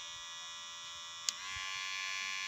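A homemade electric hair clipper hums steadily, then steps up to its second speed partway through with a brief click, settling into a higher, brighter buzz that continues alone.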